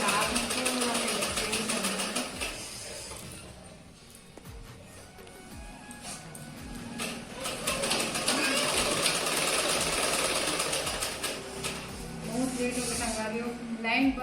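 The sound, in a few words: sewing machine stitching a blouse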